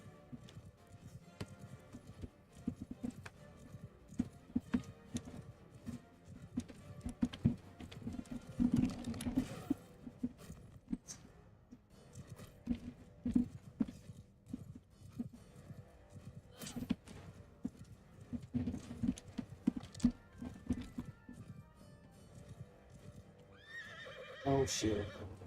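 Horse neighing with hoofbeats amid battle noise in the video game Bannerlord, steady clatter and clashing sounds throughout, a voice speaking over it.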